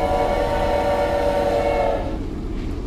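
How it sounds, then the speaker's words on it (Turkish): A spider-train creature from a modded GTA 5 game sounds off with a loud, sustained horn-like tone over steady rumbling noise, fading after about two seconds. "Örümcek tren."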